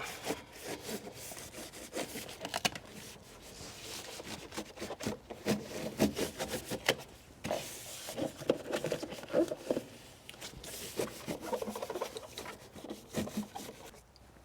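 Rough, rhythmic rasping of a rusted Jeep XJ floor pan being cut out, steady back-and-forth strokes at a moderate distance with slight pauses, no voices.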